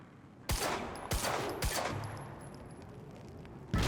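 Gunfire in the video game Quantum Break: four sharp, loud shots at uneven intervals, three close together early and one near the end, each ringing briefly over a low background hum, with no voices.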